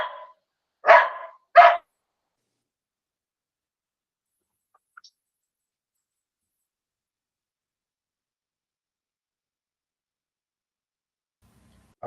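A dog gives two sharp, close barks in quick succession after a faint start, then long silence with only a tiny click midway.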